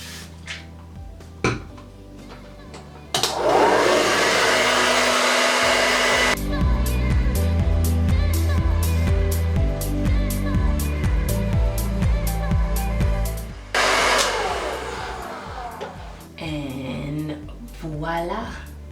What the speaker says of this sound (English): You want to make sure that you blow dry your hair to completion.